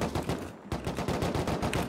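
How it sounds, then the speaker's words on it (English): Rapid bursts of gunfire in the survival game Rust crack out in quick succession, a dense run of sharp shots with a brief gap partway through. "I headshot the guy. I headshot the heavy Penny."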